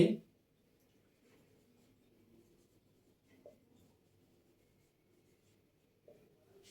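A pen scratches faintly across paper while a maths solution is written out, soft intermittent strokes close by and very quiet, with a brief louder knock at the start.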